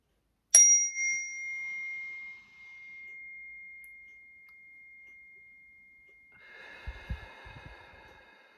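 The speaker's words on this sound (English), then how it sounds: "This is a long chime." A single chime strikes once and rings out long, its clear tone slowly fading, followed by faint breathing and a quiet sniff.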